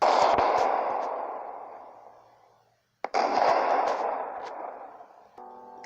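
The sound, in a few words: explosions sound effect, Lusitania torpedo hit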